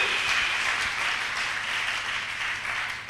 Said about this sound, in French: Acclamons le roi de gloire.